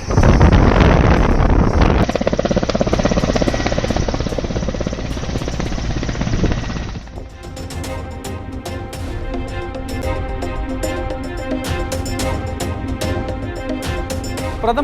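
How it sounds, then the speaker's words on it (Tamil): A security forces helicopter flies during a rehearsal in Kumari, a loud, close rotor roar buffeted by wind noise that cuts to a rapid chopping thump for the second half. "பிரதமரின் வருகையை ஒட்டி ஹெலிகாப்டர் ஒத்திகையில் ஈடுபட்ட பாதுகாப்பு படையினர்"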